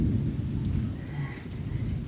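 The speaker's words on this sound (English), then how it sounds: "You can probably hear the thunder and lightning in the distance." Steady rain with a low rumble of distant thunder rolling underneath, a soft continuous wash with no voices.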